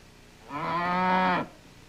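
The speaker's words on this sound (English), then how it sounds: "It was a cow." A single cow moos once, a clear, close, drawn-out low call lasting about a second before falling silent.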